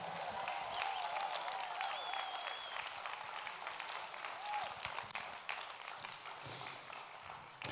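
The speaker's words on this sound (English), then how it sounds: "One more time, a nice round of applause for Kamuela Kahoano." An audience at an outdoor Hawaiian slack-key guitar festival on Maui claps and cheers in a dense, sustained round of applause, with a faint whistle and a voice heard over it.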